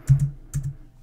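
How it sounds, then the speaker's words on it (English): A few sharp, close keystrokes on a computer keyboard, tapped in quick pairs over about a second with no voices. "You're probably very confused at this when I'm typing this"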